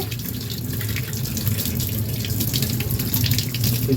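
Running kitchen tap water splashes over a large ripe papaya being washed, a steady, close, loud rush of water with small shifts as the fruit is turned under the stream.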